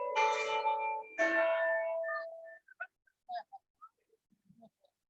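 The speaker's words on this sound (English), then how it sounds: "That's bell ringing for Jim." Two long, ringing bell strokes at an outdoor Pride flag-raising event, the second following close on the first, then fading into scattered light clinks and ticks.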